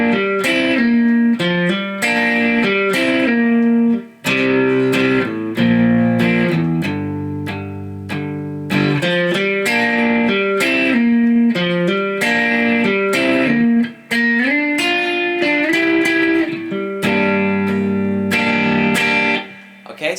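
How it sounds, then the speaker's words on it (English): An electric guitar plays the rhythm part behind a song's guitar solo, a driving riff of repeated chords and pull-offs, loud and steady with only brief breaks. "Now we're going to look at the rhythm part behind the guitar solo"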